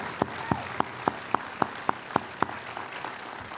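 Sparse, evenly spaced hand claps from an audience at a school district education awards ceremony ring out one at a time in a steady rhythm, about a dozen distinct claps over a few seconds, fairly soft.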